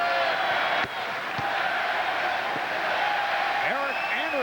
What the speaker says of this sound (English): The crowd calling out for Eric.